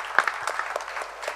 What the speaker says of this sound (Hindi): उनके लिए तालियां हो जाए।